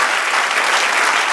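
Steady, close applause from a church congregation mid-sermon, a thick continuous patter of many hands for a brief moment with no voice over it.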